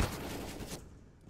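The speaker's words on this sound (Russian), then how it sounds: "Один рандомный выстрел в смок." A single gunshot in the video game CS:GO fired into a smoke grenade, a brief loud burst at the start with a decaying reverberant tail over about a second.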